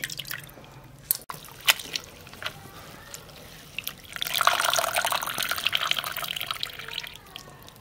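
Spinach is swished and washed in a basin of water, with scattered drips and small splashes at first, then a longer stretch of sloshing and running water, faint and close.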